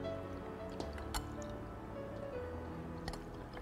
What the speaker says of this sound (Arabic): بعدين راح ننزل الحليب